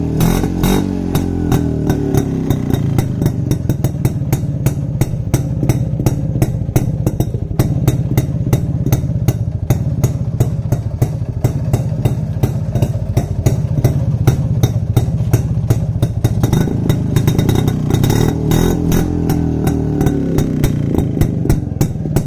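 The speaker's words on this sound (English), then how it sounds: "now let's start this motorcycle and listen to the exhaust note of this motorcycle" A restored Yezdi Roadking 250 motorcycle idles and revs close by, its two-stroke engine and exhaust giving a loud, rapid popping beat that swells and eases over about twenty seconds, with no voices.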